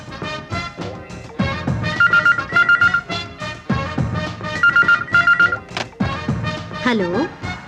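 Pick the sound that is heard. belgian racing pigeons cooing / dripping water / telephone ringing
telephone ringing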